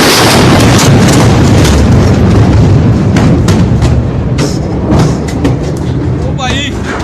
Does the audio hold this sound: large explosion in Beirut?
yes